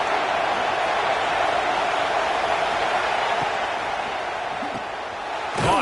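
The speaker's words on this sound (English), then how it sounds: "This crowd ready to make its presence known." Football stadium crowd roaring steadily in a broad, loud wash of noise that holds for several seconds, swelling slightly near the end with a faint voice under it.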